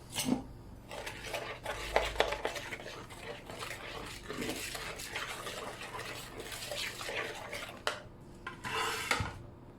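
Pumpkin pie filling being mixed in a bowl, soft scraping and clinking of a utensil against the bowl in uneven strokes, fairly quiet and close, with no talking.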